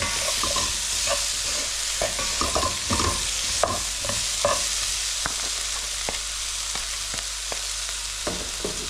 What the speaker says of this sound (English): Now give that a good mix and get these spices